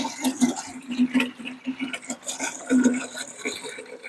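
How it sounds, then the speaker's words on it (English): Well water pours from a container into a watering can in a close, splashing stream that surges and eases in uneven bursts. "Now I'm going to take this water and I'm going to pour it into this"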